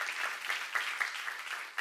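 Short burst of audience clapping at a Korean church seminar, moderately faint and uneven, with a few louder claps standing out from the steady patter.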